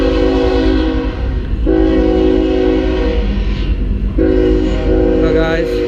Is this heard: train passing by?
yes